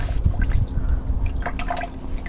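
Liquid drains and drips from an RV macerator pump on an Airstream Interstate 19 camper van, giving a close, irregular wet trickle with scattered splashy drips.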